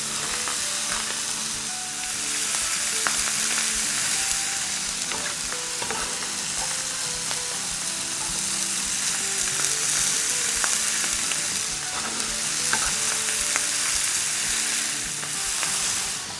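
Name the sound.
sizzling meat sizzler platter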